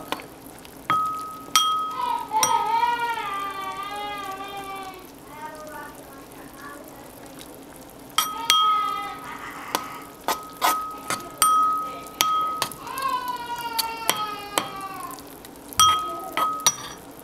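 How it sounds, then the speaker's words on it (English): A spoon clinks sharply against a pot while flour paste is stirred back into a thickening stew. The bright, repeated clinks come in irregular bursts, with voices and ringing tones nearby. "you stir it back into the stew"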